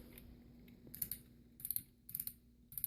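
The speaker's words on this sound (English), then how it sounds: "Nice buttery ratchets on the shoulders." The ratcheting shoulder joints of a 2007 movie Leader Class Megatron Transformers figure click quietly in four small clusters of rapid, crisp ticks, close by.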